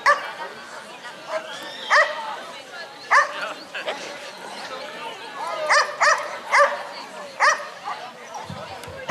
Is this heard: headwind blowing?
no